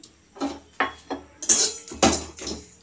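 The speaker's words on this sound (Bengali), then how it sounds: "এই ঢাকনাটাতে ঢেকে রেখে দেবো।" Metal pot lid clattering onto a kadai over a stove while green mango chutney is cooked, a series of clanks and scrapes in irregular rhythm, close and fairly loud, with no talking.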